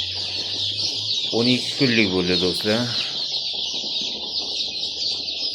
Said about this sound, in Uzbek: Andijon qora jo'jalari 12 kun bo'ldi